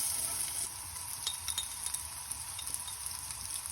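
Ginger paste sizzles in hot oil for a dal makhani tempering, a faint, steady hiss with light stirring clicks and no talking.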